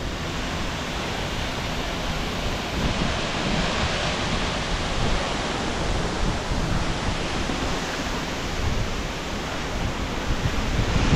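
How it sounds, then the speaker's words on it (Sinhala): A natural waterfall in Sri Lanka crashes down steadily, a loud, unbroken roar of falling water close by that fills the whole stretch with dense, hissing noise and no voices. "මේ දියැලේ මේ ස්වභාවිකව කඩා හැලෙන වතුර පාර"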